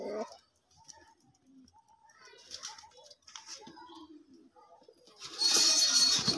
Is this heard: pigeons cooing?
yes